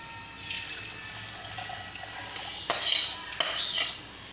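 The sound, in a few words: filtering melted jaggery for impurities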